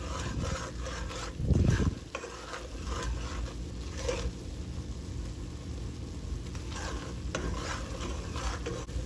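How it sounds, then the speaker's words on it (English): Butter and aromatics sizzling softly in a pan over low-medium heat, with a steady frying hiss, occasional stirring scrapes and a brief louder burst of movement early on. "So cook this kind of like on a low medium heat for about a minute"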